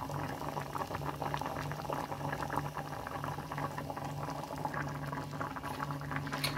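Apricot dessert syrup, Hyderabadi qubani ka meetha, bubbling steadily in a pan on the stove, a soft continuous patter of boiling at close range with no speech.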